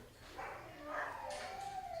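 A small dog gives a soft whimpering, whining vocalization, faint and drawn out, mixed with quiet talk indoors at an animal shelter.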